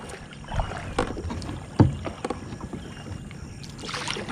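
A Lifetime Teton Angler kayak is paddled out on open water, with rhythmic splashing strokes and a sharp knock of the paddle against the hull over light wind noise.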